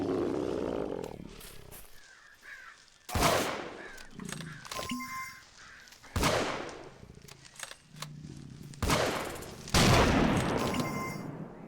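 Gunshots from a video game firearm, several loud separate blasts spaced a few seconds apart with tails that ring out between them, no talk over them.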